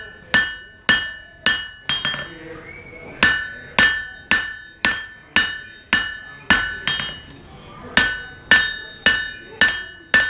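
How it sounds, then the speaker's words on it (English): A hammer strikes a heated knife blade on an anvil to straighten it, about fifteen sharp ringing metallic blows in an even rhythm with a short pause partway through, loud and close with no talking. "Now I'm going to turn it the other way and hammer that side."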